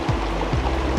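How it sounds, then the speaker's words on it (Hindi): A rainforest stream flowing steadily nearby, a loud continuous rush of water with no voices. "पानी का फ्लो, पानी की आवाज़ शायद आप तक पहुंच रही होगी"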